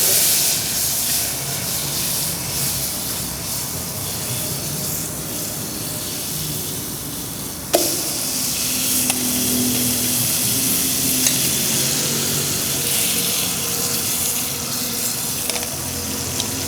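A steak drops into melted butter in a hot pan with a soft thud halfway through, and the steady sizzle swells into louder, busier frying that continues to the end.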